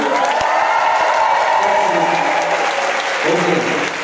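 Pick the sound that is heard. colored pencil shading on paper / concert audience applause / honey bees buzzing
concert audience applause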